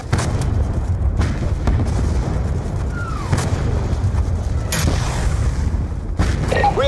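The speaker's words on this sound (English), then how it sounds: "Enemy tanks are firing on the base!" Enemy tank fire pounding a base in Call of Duty Black Ops II on Xbox 360, loud booming blasts and bursts over a constant roar of battle, with shouted voices mixed in.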